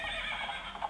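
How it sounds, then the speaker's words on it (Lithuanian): A recorded horse whinny played from a children's animal sound book, one short shrill neigh heard close and alone. "žirgas,"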